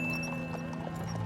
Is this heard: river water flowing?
no